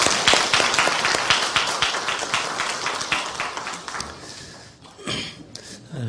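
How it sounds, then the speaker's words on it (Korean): A chapel congregation at Hanyang University claps to welcome new students, a dense burst of applause that thins out and fades, with a few scattered claps near the end. "우리 박수로 환영하겠습니다"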